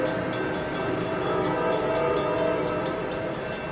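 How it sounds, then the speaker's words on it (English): Northbound Coaster commuter train (engine 2101) bound for Oceanside, passing Santa Fe Depot: a steady, loud rolling rumble with rhythmic clickety-clack of wheels over rail joints, continuous throughout. "there goes that coaster northbound Oceanside"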